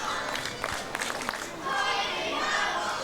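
Crowd at a UK professional wrestling match reacting with a sustained roar that swells in the second half, with scattered shouts over it.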